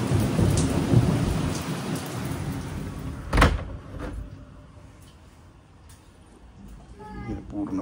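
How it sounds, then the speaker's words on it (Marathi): Heavy monsoon-style downpour hisses steadily, broken by a sharp nearby thunderclap and a lighter rumble, with rain gradually easing as a person speaks over the storm. "खूपच मुसळधार पाऊस."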